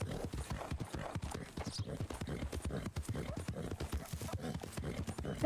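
Close, rhythmic hoofbeats from a low-level gypsy vanner horse ridden in Red Dead Redemption 2 Online, with a brief talking voice over the steady trotting.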